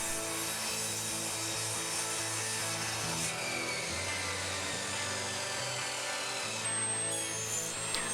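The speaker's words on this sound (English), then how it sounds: "I can cut out every piece of wood I need on the chop saw" A chop saw cuts pallet wood into pieces for an upcycled briefcase project, a steady, loud motor whine with grinding blade tones running throughout, rising slightly as the blade bites into the wood, with no talk.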